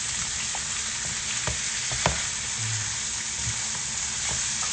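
Bacon sizzles and fries in a pan, giving a steady loud crackle with a few soft scraping stirs and clicks of a utensil partway through.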